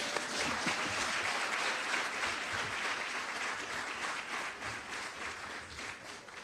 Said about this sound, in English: One more time. Big applause.